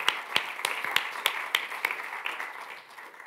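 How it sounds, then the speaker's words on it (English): An indoor audience claps at a farewell during a Latin America Day gathering: sharp, rhythmic applause with distinct individual claps near the listener, gradually thinning toward the end. "We wish Manfred all the best for his future and do not want him to go without giving him a huge round of applause."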